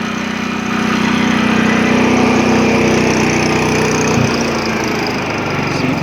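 A 1980s Honda HT-R 3009 riding mower engine runs steadily at low speed with an even, smooth hum, close and continuous, with a slight shift in pitch partway through.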